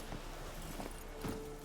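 Roach, the horse in the video game The Witcher 3, runs with quick clip-clop hoofbeats in a steady rhythm, fairly quiet, with faint game sounds around it.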